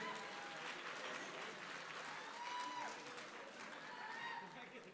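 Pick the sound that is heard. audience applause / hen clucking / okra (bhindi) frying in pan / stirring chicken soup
audience applause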